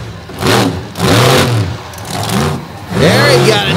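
The Warped Motorsports Ford wheelie car, with a KB Oldsmobile engine in the back, revs hard in repeated rising bursts at a beach monster-vehicle show, close and loud, with an announcer talking over it.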